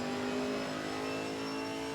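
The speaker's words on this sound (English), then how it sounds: "I wanted to give you guys a sampling of the exhaust note." Chevrolet Camaro GT4R engine and exhaust in the Assetto Corsa Competizione racing game, a steady sustained drone with clear harmonic engine tones holding at a constant pitch throughout, loud and alone with no voices.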